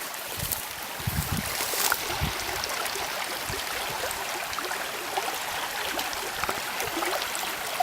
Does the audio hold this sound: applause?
no